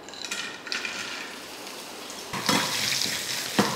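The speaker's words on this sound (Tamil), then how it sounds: "இப்போ எண்ணெய் காஞ்சிருச்சு, இதில் சேர்த்துக்கலாம்." Dried turkey berries (sundakkai vathal) dropped into hot oil and frying, a close crackling sizzle that swells suddenly partway through with sharp pops, with no talking.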